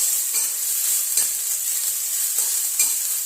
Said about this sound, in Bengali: সম্বারের সঙ্গে একটু লঙ্কাটাও ভেজে নেব